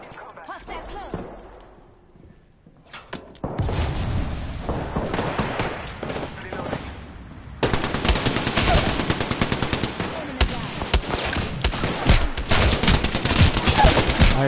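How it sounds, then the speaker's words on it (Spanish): Rapid machine-gun fire in a video game directed at the player starts after a quiet opening, then builds into heavy, continuous bursts that grow louder and nearer toward the end. "Ay, me están disparando acá."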